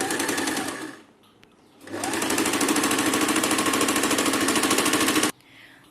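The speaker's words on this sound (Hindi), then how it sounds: "यहाँ पर हम 2 बार सिलाई लगाएंगे।" A sewing machine stitches the neck seam of a kurti. A brief run is followed by a pause, then a longer, steady rapid needle clatter of about three and a half seconds, heard close and loud.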